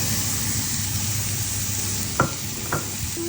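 Onion frying in a pan alongside mushrooms, a steady close sizzle filling the clip with a couple of sharp clinks of a utensil stirring near the end.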